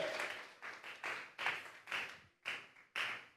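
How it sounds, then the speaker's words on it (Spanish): Clapping from a church congregation offering applause to God, heard as about seven separate loud bursts of claps in an irregular rhythm with short silent gaps between them, close and alone. "Vamos a regalarle ofrenda de palmas al Dios de la gloria"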